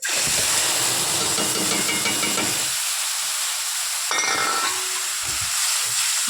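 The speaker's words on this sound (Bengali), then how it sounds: "দিয়ে ভালো করে মশলাটাকে কষতে নেব" Spice paste of ginger, cumin, tomato, green chili and onion fries in a pan, giving a loud, close hiss and sizzle that fades midway and then flares up again, with no voices.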